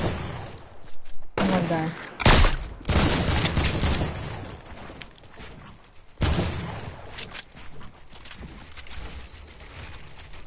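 Bursts of video game gunfire in an online shooter, loud clusters of shots separated by quieter gaps, with a player briefly speaking.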